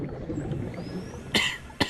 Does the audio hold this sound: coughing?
yes